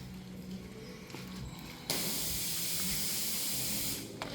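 Grease running out of a whole hog roasting over hot coals, Eastern North Carolina style, hits the embers with a sudden loud hissing sizzle that holds for about two seconds before fading back to quiet crackle.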